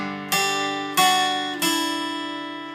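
Three plucked notes on the two highest guitar strings ring out one after another, each struck cleanly and left to sustain, bright and close with no talking.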